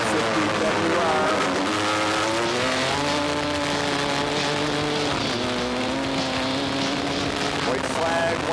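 A Yamaha 250 WR racing motorcycle at an amateur ice race, its engine screaming loudly and continuously up and down through the revs, close by, with other engines whining underneath.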